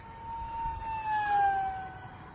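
A DIY foam board RC plane's electric motor whines in the air, its steady tone sliding lower as the throttle is pulled back. Fairly quiet and somewhat distant, with no voices.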